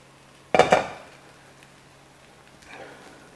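A metal pan holding a ham, cheese and tomato omelette is shaken once, giving a brief, bright clatter, followed a couple of seconds later by a fainter second rattle against a quiet background.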